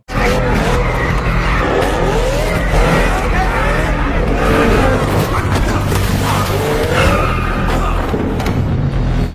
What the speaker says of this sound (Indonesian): Tiba-tiba satu mobil muncul dari luar, menabrak pintu masuk Hotel Kaiser itu.